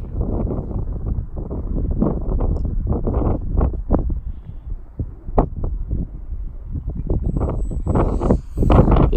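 Wind buffets the microphone outdoors during a test flight of an FMS Moa 1.5 m RC glider on 3S power: loud, continuous low rumbling gusts that swell and ease, with brief thumps and no talk.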